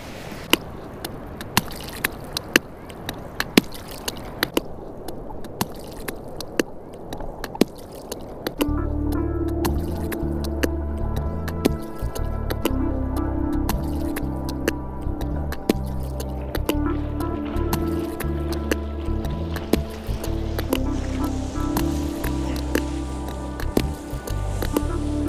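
A beat built from water sounds recorded while surfing on a surfboard: sparse drips and splashy clicks at first, then a steady looping rhythm with a heavy low pulse takes over, with no talk.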